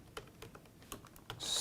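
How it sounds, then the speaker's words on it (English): Keystrokes on a computer keyboard while tags for a Siemens SIMATIC S7-1500 PLC program are entered: a handful of separate, irregular clicks, close and fairly quiet, with a brief louder hiss at the end. "Let's actually start typing some in."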